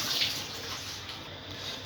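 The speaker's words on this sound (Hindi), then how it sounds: "जो वेजिटेरियन है वो इसमें पानी मिक्स करेंगे" Water poured into a bowl of dry chickpea coating mixture for a dhaba-style garlic chana dish, a soft, steady splashing stream heard up close and alone.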